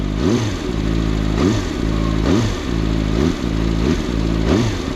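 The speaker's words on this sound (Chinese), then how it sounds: "OK， 那我们点火， 点火的速度还是比较快的" A CFMoto 500SR VOOM four-cylinder sport motorcycle engine starts and runs with a loud, close, steady idle, its pitch dipping and rising in repeated swells about once a second.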